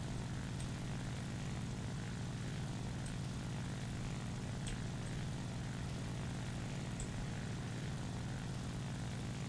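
Japanese propeller plane in War Thunder, its engine droning steadily and evenly throughout at a constant moderate level, with no talking.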